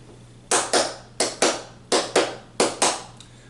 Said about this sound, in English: Coco is based on a Colombian rhythm called Pasillo.